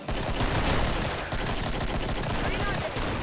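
Trench gun blasts in the Killing Floor video game, loud, dense bursts of shotgun fire close up, packed together over about three seconds.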